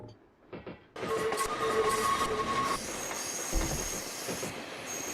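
A train in the video game Train Sim Classic rumbles steadily along the rails with a high metallic wheel squeal cutting in over the rolling noise, continuous and fairly close.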